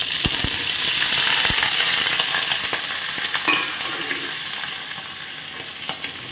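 Raw banana and potato pieces fry in hot oil with bay leaf in a pan, a close, continuous sizzle punctuated by clicking stirring strokes and scraping of the spoon.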